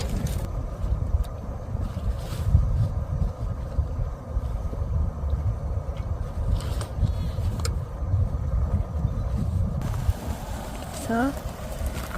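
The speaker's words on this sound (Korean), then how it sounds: "바람이 많이 불어가지고" At an auto campsite in spring, strong wind blows steadily into the microphone as a constant low rumble and buffeting, with voices talking over it.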